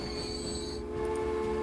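Train wheels squealing and screeching as a train brakes to a stop in the Transport Fever video game, a loud continuous metallic whine with rail rumble throughout.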